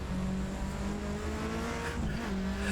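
The engine of a Cosworth RS500 race car in the Assetto Corsa sim racing game drones steadily, with sustained engine tones and slight pitch shifts as it drives on, loud and continuous.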